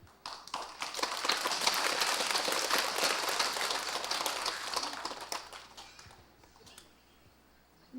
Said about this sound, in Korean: 공감을 해서 박수 치는 거예요